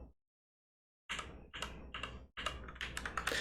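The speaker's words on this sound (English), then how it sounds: "it's a much smoother sounding keyboard. Like, you don't hear the loud click, click." Typing on a mechanical keyboard with Gateron brown switches: short bursts of soft, muffled keystrokes after a brief pause, close and fairly quiet.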